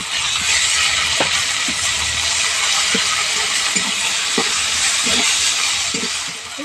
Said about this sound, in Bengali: টমেটো আর আদাটা ভালো করে ভেজে নেব।